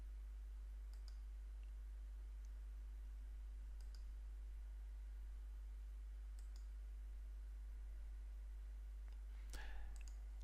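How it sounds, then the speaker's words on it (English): A computer mouse gives a few quiet, sparse clicks while boxes are ticked and a save button is pressed, each click short and isolated over a low steady hum, with the last one slightly louder. "Just click the corresponding boxes and save."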